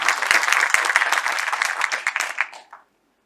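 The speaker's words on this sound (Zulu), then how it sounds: "simphinde ngelinye ihlombe elikhulu" Audience applause for a veteran musician at an honouring event: loud, dense clapping from a crowd that carries on steadily, then thins out and stops near the end.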